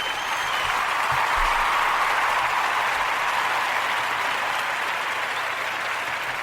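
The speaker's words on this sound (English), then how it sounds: "I want to give them an applause" An audience breaks into sustained, full applause honoring supporters of a tribute, a thick, steady roar of clapping held evenly across several seconds with only faint crowd sound beneath.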